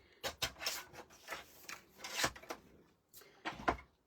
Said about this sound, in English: I'm going to trim that down to 4¼ inches.